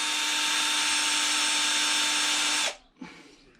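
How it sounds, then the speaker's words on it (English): Power drill boring holes into a radiator part used as a makeshift workbench while working on a Toyota Celica, a steady loud whine running about two and a half seconds before stopping, followed by a brief clunk. "So I'll just drill these 2 holes."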